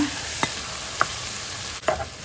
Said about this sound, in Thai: ก็จะใส่ขาหมูเข้าไปเลยนะคะ เอาลงไปผัดเลยนะคะ